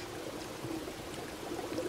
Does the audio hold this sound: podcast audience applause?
no